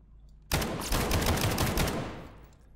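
Rapid automatic gunfire from a weapon in the video game SCP 5K, a loud, dense burst of shots that starts abruptly, holds for about two seconds and then tails off.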